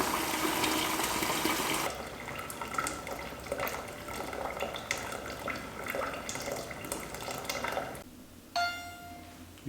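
Water running and gurgling in a Braumeister 10L electric brewing system at the end of the mash for an IPA, a steady rushing flow that eases after a couple of seconds, with a brief sharper tone near the end.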